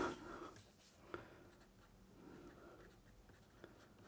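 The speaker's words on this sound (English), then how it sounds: "let's write it down." A pen scratches briefly on paper while a measurement is noted by hand at an electronics bench, a soft, close scribbling with a few faint taps and no talk.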